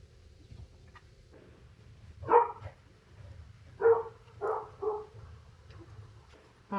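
A dog barks outdoors in a few separate bursts, a pair of woofs and then a quicker cluster of three, moderately near against low background noise, with faint whimpering sounds between.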